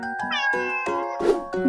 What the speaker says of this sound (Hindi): सी से होती है कैट यानी बिल्ली।